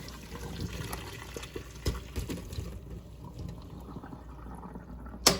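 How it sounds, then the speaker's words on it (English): Cold tap water pouring steadily over freshly cooked shrimp in a strainer, a continuous close splashing rush with small drips and a sharp clatter near the end. "run it under cold water so it stops the cooking process"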